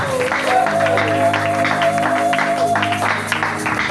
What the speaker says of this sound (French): Acclamez encore très fort